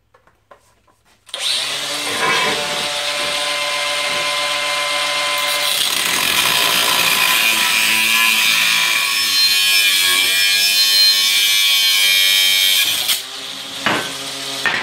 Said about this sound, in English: Time for a new disc on that angle grinder, I think.